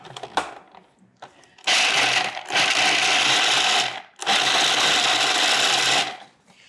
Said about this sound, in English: And you can just grind these up.